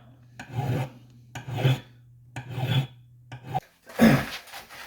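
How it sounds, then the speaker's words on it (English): An aggressive hand file rasps across a metal ring band in four slow, even strokes with brief pauses between, close and distinct, the last stroke harsher and louder. "I'm going to use one of my most aggressive files here"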